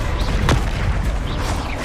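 A Confringo spell explosion in the Hogwarts Legacy video game lands as a booming blast near the middle, over a dense, steady rumble of in-game combat noise.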